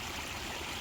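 A shallow stream flows steadily where a gold sluice is being run, giving a constant rushing, trickling wash of water with no voices, close and even throughout.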